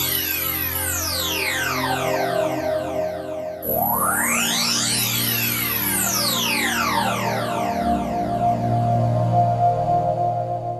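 A Roland D-50 or JD-800 synthesizer plays the Classic Sweeper patch with resonance at 100%, sharp whistling filter sweeps gliding up and down over a sustained chord, restarting once partway through, bright and intense.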